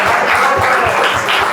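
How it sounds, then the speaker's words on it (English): Loud, close applause from a live concert audience, a thick continuous burst of clapping with a few rhythmic claps standing out, brief and with no talk. "Can we clap it up?"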